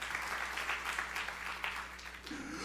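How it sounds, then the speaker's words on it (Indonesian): Church congregation giving warm applause after a sermon, a steady spread of hand claps at moderate volume, tapering slightly toward the end. "Tepuk tangan yang meriah untuk kemuliaan."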